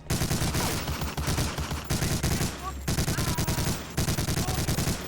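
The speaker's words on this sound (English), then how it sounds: "The MG42 especially is deafening." Sustained MG42 machine gun fire from the World War II shooter Medal of Honor: Allied Assault, a loud, rapid stream of punchy shots in long bursts with brief pauses between them.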